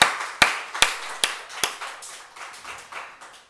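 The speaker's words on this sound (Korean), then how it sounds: "우리 하나님께 영광의 박수 올려드립시다" A Korean church congregation gives a few loud, evenly spaced claps during a Sunday service, then the sound fades into a softer, reverberant patter of clapping in a large hall.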